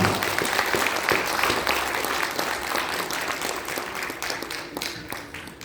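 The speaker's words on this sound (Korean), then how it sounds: "이정민 교수님께 다시 한번 큰 박수 부탁드립니다" A crowd at a political party's election launch ceremony gives sustained applause for Professor Lee Jeong-min, a dense, even roar of clapping across the whole stretch that tapers slightly toward the end.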